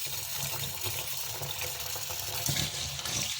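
Water pouring and splashing while soaked grains are washed for white sorghum dosa batter in a kitchen, a continuous close, sloshing gush of running water with no voices.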